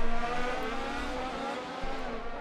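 Race car engine droning steadily with harmonic whine as a car oversteers during a Hybrid Series race at the Bahrain Grand Prix, loud and continuous with slight surges.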